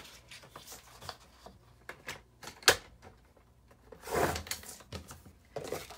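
Paper is trimmed into a 4-inch strip for scrapbooking: quiet, sporadic clicks and slicing strokes from a cutter, with a couple of sharper snaps and a longer rasping cut, close-up and faint with no talking.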